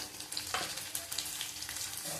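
Prawns frying in a pan, a soft, steady crackling sizzle with a few brief stirring clicks, fairly quiet throughout.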